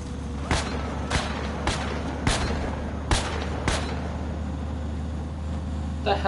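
A new weapon fires in Just Cause 3, about six sharp booming shots spaced roughly half a second apart over a steady engine-like rumble, with no voices.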